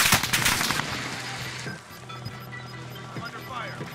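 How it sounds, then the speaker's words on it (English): Bursts of gunfire from the Warzone shooter game crackle loudly in a rapid burst, then thin out into a few scattered, fainter shots. "I'm taking fire!"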